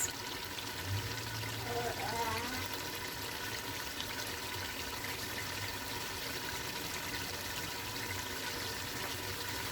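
Water drained from salted eggplant pours and trickles into a container. The splashing is faint and steady, with some speech in the background.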